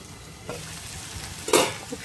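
Masala for a peas and paneer curry sautéing in a pan, with a soft sizzle under two quick stirring scrapes, the second louder and closer.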